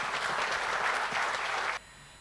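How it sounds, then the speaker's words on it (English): An audience at a conference talk in Bangalore claps loudly and continuously as a speaker is welcomed on stage, a dense wash of applause that stops abruptly, leaving quiet room tone. "With a loud round of applause, can we welcome on stage Michelle."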